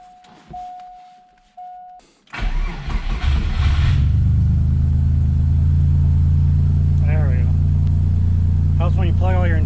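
A Subaru EG33 flat-six in an Impreza, just repaired after a missing-spark fault, cranks briefly and then catches into a loud, steady idle rumble with a few revs, nearby, while a person talks over it.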